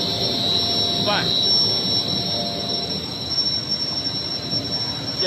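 An EPE foam extruder machine running, with its motor, gearbox and fan giving off a steady mechanical hum with a thin high whine on top, close and constant.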